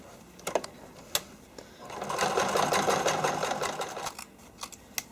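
A sewing machine stitches the seams of fabric figure skating soakers, a steady whirring run of a couple of seconds, close and clear, framed by a few sharp clicks and handling taps before and after.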